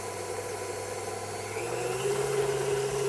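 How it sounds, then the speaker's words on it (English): A KitchenAid stand mixer runs on speed 6 while mixing cupcake cake batter, a steady motor hum and whir that rises slightly in pitch and loudness partway through. "I usually mix it on 6 on the KitchenAid"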